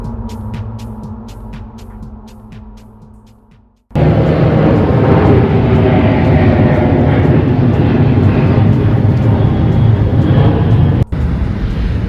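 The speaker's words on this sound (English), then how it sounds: "I love the sound of aeroplanes, and you'll hear them aplenty" A low hum gives way abruptly to the loud, close roar of an airplane passing overhead near Sydney Airport at twilight, a dense sustained engine rush that stays strong for the rest of the clip.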